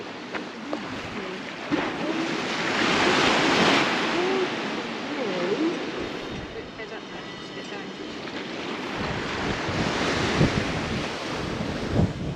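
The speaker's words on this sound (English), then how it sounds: "So, windy again." Strong coastal wind rushes and gusts against the microphone at Polperro and Polruan in Cornwall, swelling and easing in loud surges, with a voice briefly heard underneath.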